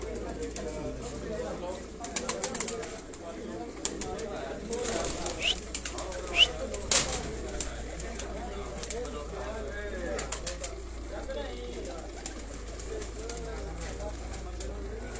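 Racing pigeons owned by a fancier in Sialkot, soft cooing and bursts of wing flapping at close range, with someone talking over the birds throughout.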